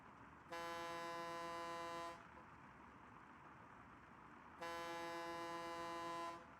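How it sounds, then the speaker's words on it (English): A truck horn in the video game Satisfactory sounds in two long, steady, rich-toned blasts of about two seconds each, separated by a pause, over quiet background noise. "They used to have a real girly, wimpy honk."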